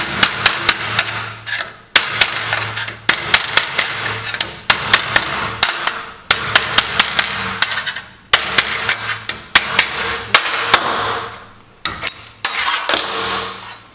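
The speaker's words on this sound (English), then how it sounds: "So I'll actually chisel these open." Hammer blows drive a steel chisel into seam-welded joints on a race car chassis during prep, a close, loud series of sharp metallic strikes in rapid bursts with short pauses between.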